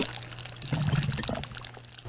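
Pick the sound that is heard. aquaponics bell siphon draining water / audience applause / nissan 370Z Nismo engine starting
aquaponics bell siphon draining water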